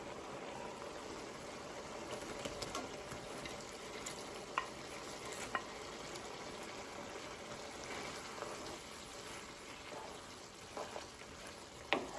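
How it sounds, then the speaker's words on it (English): Bacon and sausages frying in a pan, a faint continuous sizzle and crackle with occasional soft pops and stirring clicks, steady throughout with no talking. "Now I'm going to go ahead and add my bacon and my sausages."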